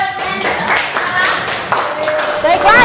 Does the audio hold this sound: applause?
yes